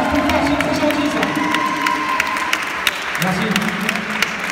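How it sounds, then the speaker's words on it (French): Audience applause and cheering at a regional karate kata championship, crisp clapping with crowd noise and voices talking over it throughout. "on va l'applaudir"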